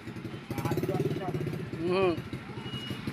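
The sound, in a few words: habal-habal motorcycle taxi engine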